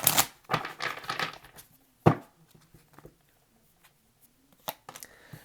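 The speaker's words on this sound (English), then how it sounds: "Last shuffle for Scorpio." Tarot cards being shuffled for a Scorpio reading: a few soft crisp riffling and flapping bursts, strongest at the start, then sparse faint taps and card slaps in a quiet room.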